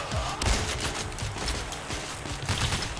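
Rapid gunfire in the video game PAYDAY The Heist, dense bursts of sharp overlapping shots crackling almost nonstop, loud and close, like several guns firing at once.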